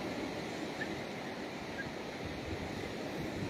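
Calm sea waves at Pangandaran beach in clear weather make a soft, continuous wash of surf with some wind noise. It is faint and steady and nobody speaks.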